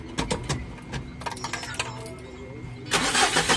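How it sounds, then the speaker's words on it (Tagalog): Mitsubishi L300 Euro4 diesel van engine being cranked with clattering turns, then catching near the end and running loudly close by in a repair shop. "Yun, umandar na itong sasakyan ni customer."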